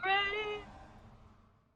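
A house cat lets out a single clear, drawn-out meow close by, bright and tonal at first, then trailing off into a soft fading tail with quiet room noise behind it.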